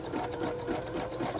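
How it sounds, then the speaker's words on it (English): A sewing machine stitches a ruffle sock in a steady, fast, even hum with a rapid mechanical needle rhythm. It runs alone at moderate, close volume. "we're going to start sewing"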